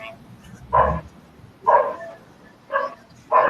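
A dog barks four times in separate, evenly spaced bursts, fairly faint and somewhat distant, with quiet room noise between barks.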